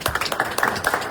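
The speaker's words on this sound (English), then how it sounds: "All right, round of applause." Short round of applause at a city council meeting honoring promoted lieutenant and captain, a cluster of hands clapping close and loud in quick, dense succession.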